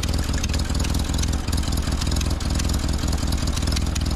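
An old Ford 9N tractor engine, over 80 years old, idles loud and close with a steady, rhythmic chugging and a raspy, ticking exhaust leak puffing on each beat.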